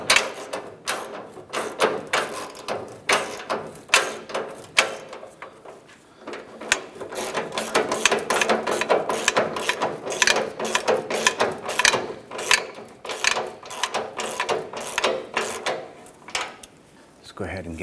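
A ratchet tightens the mounting nut on the fuel tank strap of a 1994-2004 Chevrolet S10 during a fuel sending unit replacement, giving close, rapid rhythmic clicking in repeated bursts with short pauses throughout.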